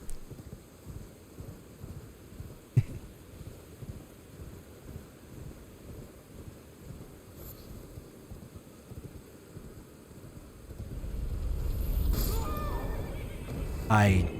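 A horse in Elden Ring whinnies near the end over steady wind-like ambience and hoofbeat-like thuds, with a loud sharp neigh closing the passage.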